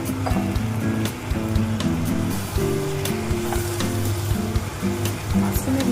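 Mushrooms and pre-fried potatoes sizzle in hot spiced oil, a steady close crackle running under a prominent layer of tonal background music.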